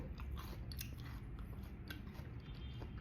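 Close, steady biting and chewing of crunchy niang nok fruit, with repeated crisp crunches and soft mouth sounds throughout and no talking.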